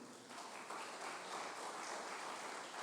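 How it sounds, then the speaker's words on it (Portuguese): A church congregation applauds during a sermon, giving dense, steady clapping that fills the clip without a break and stays fairly quiet. "As palmas para o Senhor"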